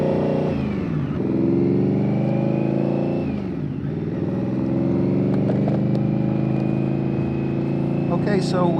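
A motorcycle engine drones steadily during a ride, its pitch rising as it accelerates and dropping at gear shifts, with continuous road and wind noise.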